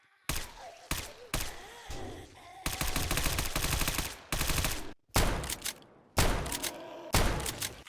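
A Glock pistol fires in a 7 Days to Die mod, loud rapid bursts of shots close up, separated by brief gaps as the magazine empties.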